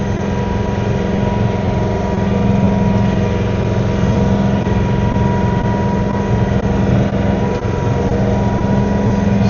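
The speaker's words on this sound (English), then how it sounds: "I just use the tractor and go forward and backwards, blow it ahead of me" A John Deere tractor fitted with a snow blower attachment runs steadily and loudly up close, its engine drone and blower whine holding at an even level throughout with no voices.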